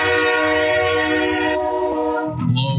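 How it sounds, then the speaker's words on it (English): A train sounds its horn, a loud, sustained multi-tone blast held close, then cut off as rumbling train noise and a brief trailing sound take over at the end. "Yeah, the train!"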